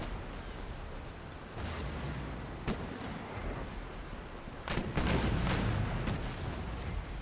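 Ship cannons firing in a naval battle in Empire: Total War with Darthmod. Booms sound over a constant battle rumble: one sharp shot, then a tight volley of blasts a few seconds later.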